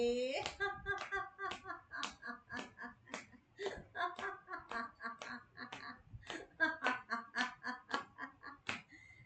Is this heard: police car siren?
no